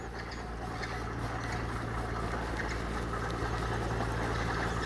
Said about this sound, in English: Got a noisy tractor in the distance.